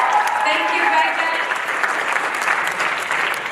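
Dense, steady audience applause from a crowd at a youth technology showcase, continuous clapping filling the room at full volume for the whole stretch with no pauses.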